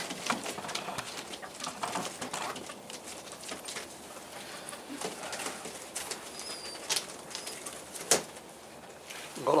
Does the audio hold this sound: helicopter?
no